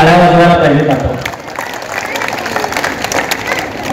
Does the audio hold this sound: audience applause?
yes